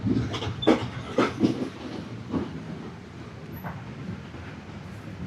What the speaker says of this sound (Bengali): ছেড়ে দিল আমাদের ট্রেন আওকানা রেলওয়ে স্টেশন থেকে